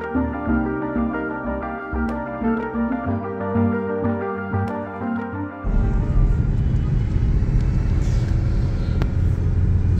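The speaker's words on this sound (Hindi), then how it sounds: "यार इसकी जो नॉइज़ है ना सीवीटी वाली, बहुत अनोइंग है।" Toyota Belta with a CVT transmission driving toward Murree, a steady engine drone with a tonal whine at first, then a sudden shift into louder, broad road and engine rumble.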